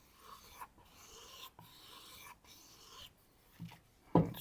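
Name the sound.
knife being ground on a sharpener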